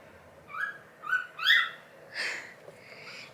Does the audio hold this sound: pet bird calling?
yes